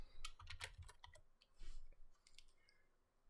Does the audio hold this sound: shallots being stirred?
no